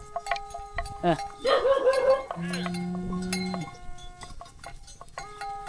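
Bells hang on water buffalo in a Lao village, clanking and ringing in uneven bursts up close, with one longer tone and scattered knocks and other sounds around them.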